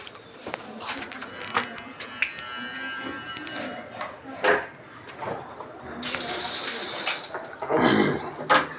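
Water runs from a household supply pipe, a steady broadband splash and hiss that swells louder toward the end, with faint voices and clatter underneath.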